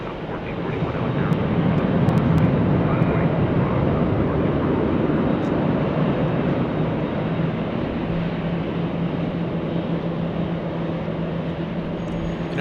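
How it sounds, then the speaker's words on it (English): Boeing 747 at Los Angeles International Airport, a distant, continuous engine rumble with a low droning hum that holds steady throughout. "Are you able to hear the engines of that 747?"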